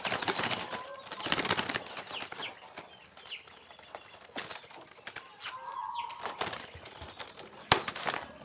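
Perkutut zebra doves flutter and scuffle in a box as they are packed for shipping, with several bursts of wing flapping, soft clucking calls and knocks, close by and fairly quiet.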